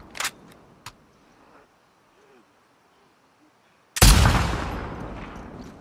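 Rifle gunfire in The Last of Us Part II: two quick sharp cracks, then quiet, then one loud, close blast that rings out and fades slowly.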